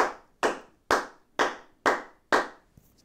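Six sharp, bright hand claps in a steady rhythm, each ringing briefly before fading, sound close and distinct just outside a duvet, with no talking.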